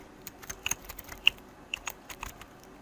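Keys tapped on a computer keyboard while a first name is entered into an account sign-up form, a quiet irregular run of light clicks spread across the moment with no voices.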